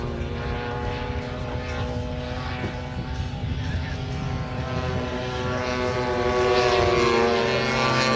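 Propeller aircraft flying at the Elvington airshow, a steady droning engine and propeller hum with strong tonal harmonics, fairly distant and swelling slightly louder near the end, with no talk.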